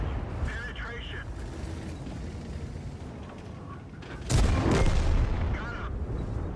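A tank cannon firing at an enemy vehicle in World of Tanks, one heavy boom standing out over a continuous rumble of engine and battle noise.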